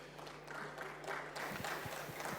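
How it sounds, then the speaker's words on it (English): Audience clapping to welcome panelists at a cross-border payments panel discussion: a continuous wash of applause with a few sharper slaps standing out, fairly close and sustained throughout. "Let's welcome them with a round of applause,"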